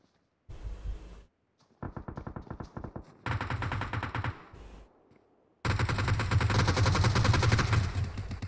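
Gunfire in a mobile battle royale match: separate bursts of rapid automatic shots, some short and some sustained, that grow heavier and louder toward the end.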